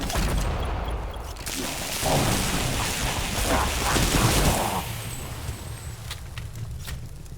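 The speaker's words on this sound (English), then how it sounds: "The light machine gun is very powerful" Light machine gun fire from the ADACA video game: a dense, sustained burst of rapid shots that swells loudest in the middle of the clip and then tapers into quieter rumbling.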